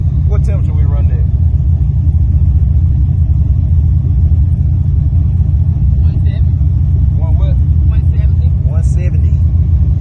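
Car engine idling and rumbling while stuck in traffic, a constant low drone close by that continues throughout, with someone talking over it.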